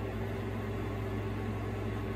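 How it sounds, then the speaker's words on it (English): Steady air-conditioning hum with a constant low drone and broadband hiss, even and unbroken throughout, heard alone in an indoor room with no voices. "As always, sorry about that air noise."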